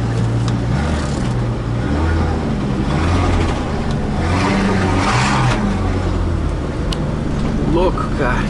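A big modified Ford Excursion, a 4x4 Eddie Bauer edition, revs hard and pulls through the gears, its deep engine drone rising and falling steadily under people talking inside the cab.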